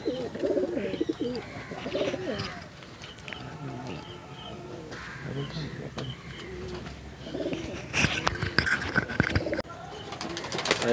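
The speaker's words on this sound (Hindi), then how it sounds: "ये जो कबूतर है" Madrasi pigeons coo in soft, repeated throaty calls nearby at a loft in Chennai, while people talk over them and occasional sharp clatters sound toward the end.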